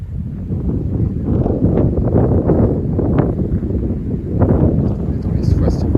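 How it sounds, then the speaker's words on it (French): A winter gale gusting around 75 km/h on New Year's Day, roaring as low, heavy buffeting across the microphone, loud and continuous with rustling surges, and a voice speaking under the noise. "Et là, ça y est, un petit coup de vent"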